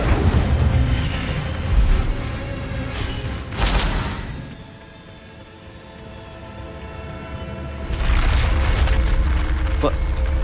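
A spell cast in the game Hogwarts Legacy produces deep whooshing bursts and rumbling fire effects, swelling near the start and again toward the end, separated by a quieter lull with faint game tones.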